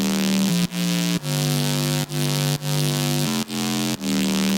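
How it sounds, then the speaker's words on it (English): A dubby synth bass built in Serum plays alone, a thick sustained low tone pulsing in roughly half-second phrases with brief dips between notes and rich upper harmonics. "This is the bass sort of lead that really lays the foundation for the rest of the sounds."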